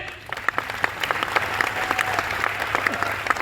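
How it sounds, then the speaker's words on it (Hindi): Audience clapping hard at a sales training convention in Pune, a close, sharp burst of individual claps layered into a steady applause that holds for several seconds. "जोरदार ताली बजाइए।"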